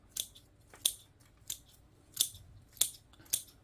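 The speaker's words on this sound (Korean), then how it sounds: "그래서 이렇게 남기고 꽃을 전부 잘라주겠습니다." Scissors snip off the flowers of a chrysanthemum bonsai being prepared for winter dormancy, six sharp close cuts at a steady rhythm with no voices.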